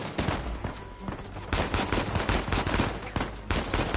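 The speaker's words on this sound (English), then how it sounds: "Let's grab our pistol." Pistol gunfire in Uncharted 4, firing in repeated bursts with sharp cracks scattered across the whole stretch over loud, dense game action.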